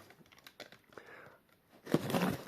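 Plastic wrapping and packaging crinkle and tear as a parcel of radio parts bought by weight at auction is opened, scattered rustles building to a louder burst of crumpling near the end, with no talk.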